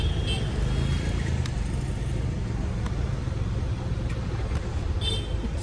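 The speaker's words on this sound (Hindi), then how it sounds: "अभी तो जाम में रुके हुए हैं। ज़्यादा ट्रैफिक है" Steady road traffic rumble in a jam on the road to Mussoorie, continuous engine drone with faint horn-like tones, heard from inside a stopped vehicle with voices talking over it.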